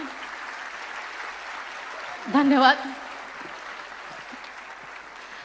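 An audience at a stage event claps steadily for the speaker's mother, a soft, even patter of many hands throughout, briefly overlaid by a voice speaking.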